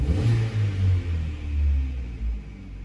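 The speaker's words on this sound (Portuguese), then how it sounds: "Vou dar uma acelerada, ó." A 2015 Chevrolet Cruze LT engine revs up and settles back several times in slow swells, a deep close rumble with no voices.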